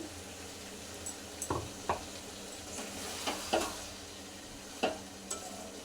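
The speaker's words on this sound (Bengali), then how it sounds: "মশলা দিয়ে এখন ভালো করে কষবো।" Mutton is sautéed with spices in a pan, stirred with faint sizzling and occasional soft scraping knocks of a spoon against the pan, quiet and close with no talk.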